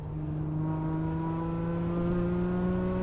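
An Alfa Romeo 75 engine hums steadily from inside the car while driving, with a strong even drone and a slowly rising pitch as the revs climb.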